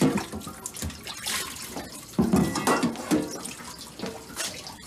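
Water runs from a tap indoors, with splashing and gurgling that rises and falls in uneven bursts over several seconds. No voices are heard over it.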